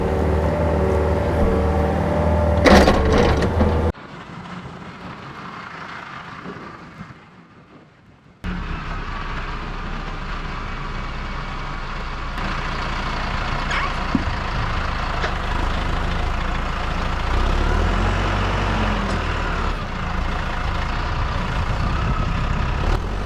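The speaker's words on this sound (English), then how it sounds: "It's right at the limit of what my tractor can lift too. She complains about it a little bit" Tractor engine labouring under load as it lifts a heavy ash log, a loud, steady low drone that dips briefly before surging back and holding strong.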